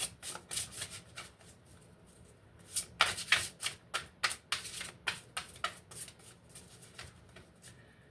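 A deck of tarot cards is shuffled in a steady series of quick, crisp riffling bursts, close and fairly quiet, with no voices.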